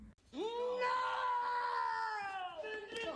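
In a prison drama film scene from The Green Mile, a man lets out a loud, sustained anguished scream of grief that rises sharply, holds for a few seconds, then breaks off.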